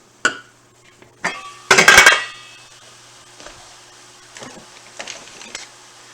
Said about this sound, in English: now I'm going to lift the cover on this